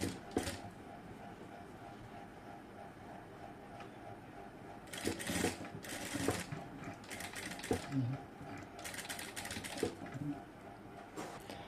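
A domestic sewing machine stitches a front-cut kurti design, its motor running in several short, loud bursts separated by quieter pauses with faint handling noise, recorded close up.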